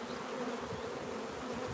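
Honey bees swarm in a steady, dense buzz around a hive frame being inspected for pollen, the droning hum continuous and close throughout with no talking over it.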